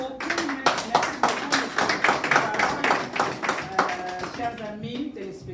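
Studio audience clapping at the close of a television program, a run of distinct, rhythmic hand claps with voices talking and calling out over them.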